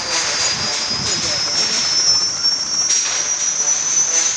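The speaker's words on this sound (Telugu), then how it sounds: "హెలికాప్టర్ స్టార్ట్ అయింది" A high, whining helicopter engine hum with a steady rotor-like drone, continuous and fairly loud, in the multiplayer horror video game GMM 2, with people talking over it.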